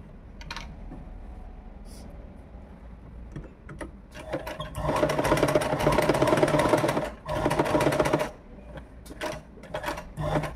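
A sewing machine stitches a gathered umbrella frock in short bursts. Scattered clicks open the clip, then several seconds of continuous rapid whirring run close up, with a brief pause and a final burst.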